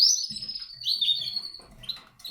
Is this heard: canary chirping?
yes